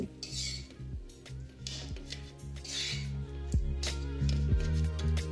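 Crushed makhana stirred in a pan over a low flame, a spoon scraping and clinking against the metal in quiet, irregular strokes, close up and without talk.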